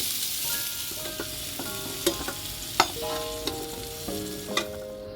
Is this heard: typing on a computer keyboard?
no